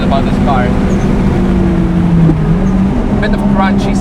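A Toyota Celica GT-Four drives on the Nürburgring with a steady engine drone and short rising turbo whistles near the start and end.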